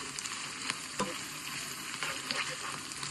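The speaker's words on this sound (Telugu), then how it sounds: "చికెన్ మొత్తం వేసాక ఇలా మధ్య మధ్యలో కలుపుతూనే ఉండాలి ఫ్రెండ్స్, ఎందుకంటే కింద అడుగంటకూడదు." Chicken frying in a pan for chicken pachadi, a steady crackling sizzle with occasional scraping clicks of a spoon stirring the pieces, close and moderately quiet with no speech.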